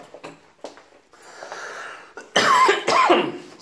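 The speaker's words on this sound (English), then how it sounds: "Excuse me, I got a cough here." Several short coughs and throat-clearing sounds from one person, soft at first, then two louder, harsher coughs near the end.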